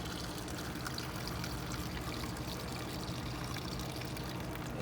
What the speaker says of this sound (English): and I'm gonna pour it directly